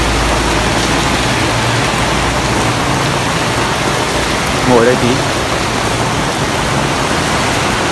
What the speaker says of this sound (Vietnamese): mưa quá. Áo mưa mà cũng mưa hết rồi.